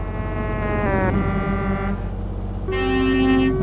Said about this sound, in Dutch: wat klinkt die toeter van een Renault smeren? Die normale toeter.